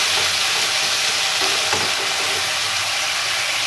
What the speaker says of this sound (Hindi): आलूओं को अच्छे तरीके से फ्राई करना है